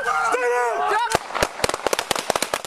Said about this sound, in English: The video turns dark, but you can hear multiple gunshots.